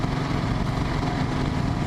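Motorcycle exhaust fitted with a VW Beetle (Fusca) muffler, giving a steady, moderately loud low rumble at idle, continuous and close with no voices.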